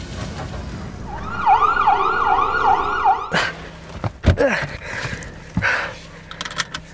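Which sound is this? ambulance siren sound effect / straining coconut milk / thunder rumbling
ambulance siren sound effect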